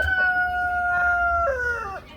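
Chickens in a yard with high clay soil, giving a sustained rising vocal call that breaks and bends downward near the end, close and fairly loud over a low steady background rumble.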